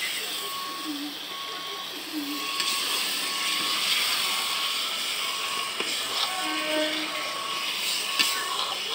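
Meat dropped into a hot spice mix in a pan sizzles with a steady, close broadband hiss that fills the whole stretch, with a faint voice in the background.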